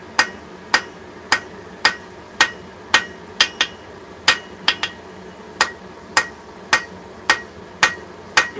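Hammer blows forging a taper on a steel bar over an anvil, a steady run of about fifteen sharp, ringing metallic strikes at roughly half-second intervals, loud and close with no talk.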